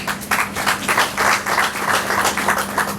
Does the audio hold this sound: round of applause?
yes